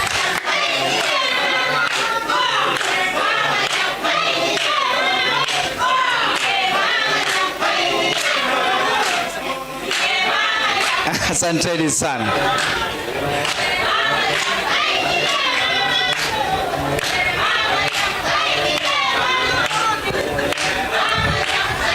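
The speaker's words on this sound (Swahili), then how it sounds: "Wapigieni makofi wageni wetu." Audience at a Baringo County education bursary and scholarship launch applauding departing guests, dense sustained clapping and crowd noise throughout, with an announcer speaking over it.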